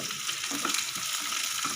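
Bright, dense sizzling of whole garlic cloves frying in hot oil for a kadhi tempering, steady and close, with no talking.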